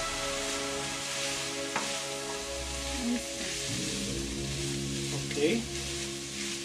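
Suadero beef sizzles steadily over low heat in a pan while being stirred, with occasional scrapes and a person speaking briefly over the frying.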